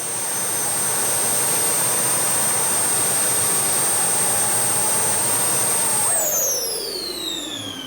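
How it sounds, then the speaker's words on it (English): Jet-type engines of the RAZOR flying machine idling at their lowest setting, a steady loud roaring whine with a high tonal scream that drops in pitch near the end as the engines spool down. "how hard it is to gain control over the engines, and they were at their lowest setting"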